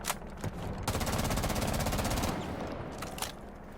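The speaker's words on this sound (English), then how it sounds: "Just, like, shoot, like, a couple mags in the wall and try to get your bullets" Sustained automatic gunfire in Rainbow Six Siege as whole magazines are emptied into a wall, a dense rapid rattle of shots running for about two seconds, with shorter bursts before and after and no talking.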